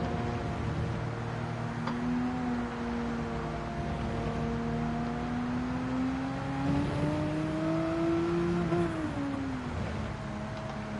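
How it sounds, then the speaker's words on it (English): A McLaren race car's engine drones steadily in Gran Turismo 7 during a Monaco event race, its pitch rising gradually as it pulls away, then dropping sharply near the end, with no talking. "That McLaren is pulling away right now"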